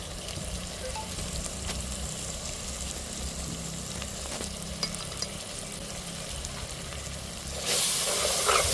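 Masala frying and sizzling in hot oil for crab biryani, a steady close hiss with faint stirring clicks, swelling louder near the end.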